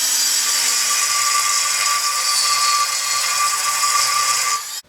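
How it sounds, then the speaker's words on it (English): A die grinder cuts into an aluminum dual plane intake manifold, giving a steady, loud high-pitched whine that holds continuously for several seconds before cutting off abruptly at the end. "I started doing the intake manifold modification using my die grinder"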